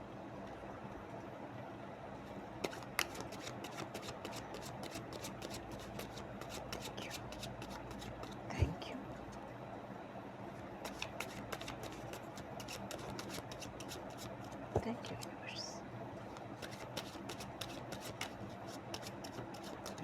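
Tarot cards are shuffled close up in a quiet room, giving steady bursts of soft riffling and flicking. Occasional sharper taps and slaps of the deck come through over faint background hum.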